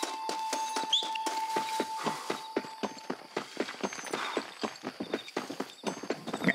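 Horse hooves clop in a quick, regular rhythm in the Western video game Red Dead Redemption, a steady run of sharp, close hoofbeats that carries through the whole stretch over a quiet background.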